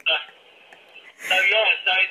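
A mobile phone rings with bright, warbling electronic tones in two close bursts, loud and near, cutting through a quieter stretch of room sound.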